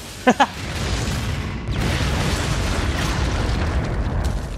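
Rocket blasts from a firefight against a tank in the video game Turok (2008): two sharp pops open, followed by a long, loud, rumbling explosion wash that fills the rest of the moment.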